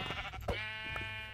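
A Minecraft sheep bleats once, a short nasal, wavering cry set against a steady in-game background hum, with no talking over it.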